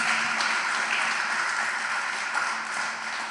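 Church congregation applauding during a Spanish-language sermon, a steady dense wash of clapping that holds at an even level for the whole stretch, with no voices standing out above it.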